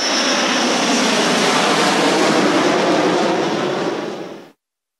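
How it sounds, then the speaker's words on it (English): A fixed-wing airplane flies past, its engine a steady, loud broadband roar that holds for about four and a half seconds and then cuts off abruptly, with no voices heard. "Airplane."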